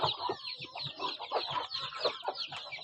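Several chickens cluck busily and close by in a hot farm setting, a rapid run of overlapping clucks and short calls with no pauses.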